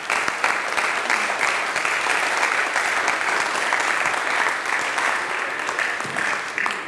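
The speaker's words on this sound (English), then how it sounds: "Let's give a big round of applause" A college assembly audience at Hesston College breaks into steady, full applause that holds at an even level for about seven seconds, with no voices standing out.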